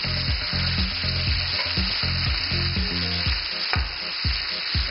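Food frying in hot oil at a tapas cooking demonstration: a steady, close, crackling sizzle runs throughout, with occasional clinks and stirring knocks over the top.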